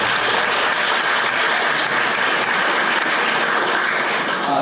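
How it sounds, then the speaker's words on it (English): A crowd claps loudly and continuously at a primary school Grade 6 graduation ceremony, a dense wash of hand claps holding steady for several seconds with no speech. "Make it a clap for that war cry."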